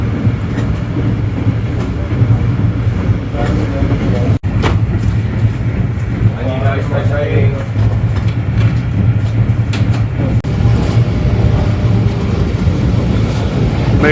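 Karachi Express passenger train running, heard from inside a business class coach near New Multan station: a steady loud rumble and rattle of the carriage throughout, with a brief sharp knock partway through and no talking.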